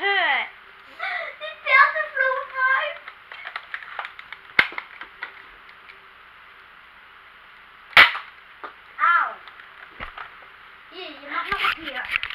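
A toy gun snaps off a few sharp, isolated cracks, widely spaced, amid children's chatter and a young voice speaking up close.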